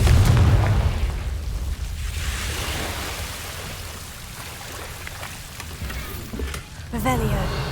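A Confringo spell blast in the video game Hogwarts Legacy: a heavy boom at the start trailing into a rushing, crackling wash of debris and ambience, with another burst near the end and a voice talking over it.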